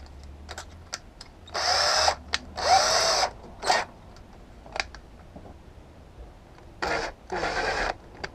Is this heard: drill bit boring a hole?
yes